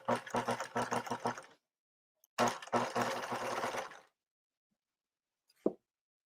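A Bernina sewing machine runs a straight stitch along a skirt waistband in two loud, rapid mechanical bursts separated by a pause, followed by a single soft knock.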